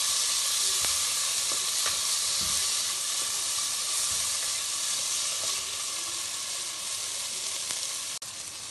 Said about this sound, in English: Add the sprouted moong into it and mix it well.